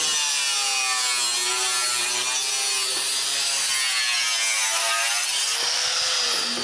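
A hand saw cutting the gullets of a homemade wooden snowmobile tow bar, a steady continuous rasping stroke close up and loud throughout, no talking.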